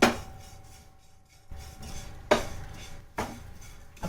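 Sesame seeds and dried coconut dry-roasting in a pan over medium heat, heard as several sharp clinks and scrapes of a utensil against the pan at irregular intervals, close by with quiet gaps between, no talking.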